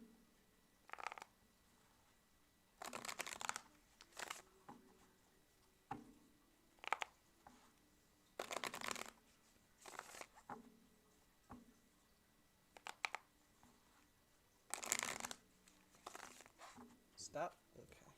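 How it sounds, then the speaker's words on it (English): Tarot cards are shuffled by hand in bursts of papery riffling and slapping, several separate flurries with quiet gaps between them, heard close and fairly faint. "focus on that and tell me when to stop shuffling"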